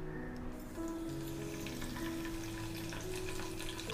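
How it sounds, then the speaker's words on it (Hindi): Curry leaves dropped into two spoons of hot oil for a pomfret fish curry, a soft continuous sizzle and crackle heard close at low level, with no voices. "2 चम्मच तेल गरम होने के बाद उसमें कड़ी पत्ता डालेंगे।"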